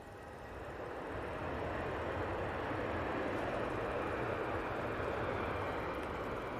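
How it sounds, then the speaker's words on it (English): A Virgin Atlantic Airbus A350 arriving from Orlando on final approach at Manchester Airport gives a broad, steady engine roar that swells over the first second or two and then holds at an even, moderately distant level. "Virgin Atlantic A350 from Orlando, just lining up on final."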